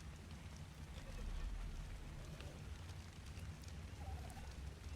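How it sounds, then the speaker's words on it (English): Rain falls outdoors as a faint, steady patter and hiss, continuous and soft, with occasional small sounds and no clear speech. "It's just raining."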